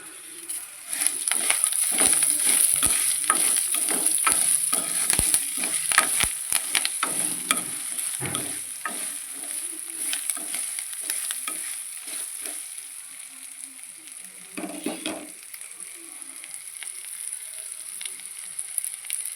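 Loud, steady sizzling of tempering spices frying in hot oil for tamarind rice, with occasional clinks and scrapes of stirring throughout.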